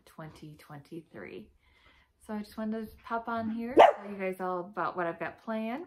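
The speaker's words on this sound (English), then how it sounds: "Sorry for the noise, the dogs are playing." Several dogs playing and barking indoors, with sharp yips and barks scattered under someone talking close by, including one louder bark partway through.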